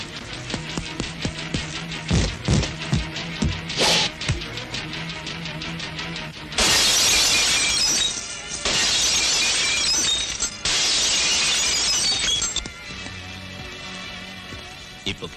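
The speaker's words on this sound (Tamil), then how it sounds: "இது கண்ணாடி, அடிச்சா உடஞ்சு போயிடும்." Glass is smashed in a Tamil action film scene, with several loud, bright shattering bursts and tinkling debris over roughly six seconds, following a stretch of tonal background sound.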